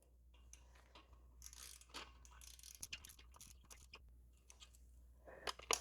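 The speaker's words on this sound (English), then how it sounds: "It feels like the back drag's about the same on both of these ratchets." A Hyper Tough ratchet wrench from a 52-piece set clicks quietly and unevenly, its pawl ticking in short bursts close by, with no talking.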